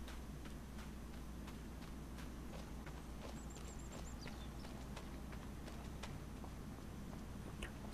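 Horses walking in the Farming Simulator 25 video game: soft, evenly spaced hoof clip-clops over a steady low engine-like drone, faint and distant.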